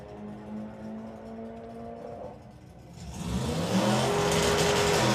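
A turbocharged drag racing car on a sportsman drag strip idles with a low engine tone, then launches with a surge into a loud, rising, rasping roar as the tyres scrabble for grip, heard close with no talk.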